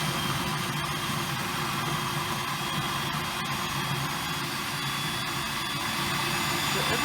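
Blender whirring steadily at high speed while mixing chilli sauce, a loud continuous roaring motor drone held for the whole stretch, close and unbroken.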